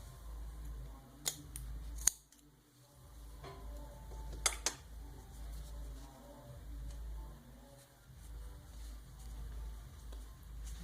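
Scissors snip through crochet yarn beside a bathroom rug being made, giving a few sharp, close clicks and cuts in an otherwise quiet room.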